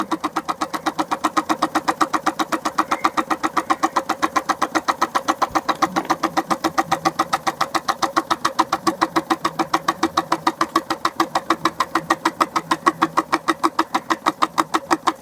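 A homemade, fuel-fired hot-air Stirling engine runs nearby with a fast, even, rhythmic chugging that holds steady throughout.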